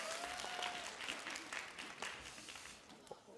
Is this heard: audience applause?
yes